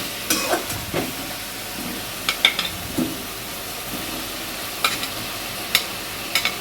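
Potatoes stirred into a spice paste in a pan, giving a steady low sizzle broken by several short scraping stir strokes, fairly close and with no talking.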